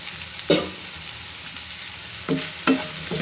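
Vegetable pieces frying in a kadai for veg pulao, a steady close sizzle broken by a few sharp scraping stirs of a spoon against the pan, no voices.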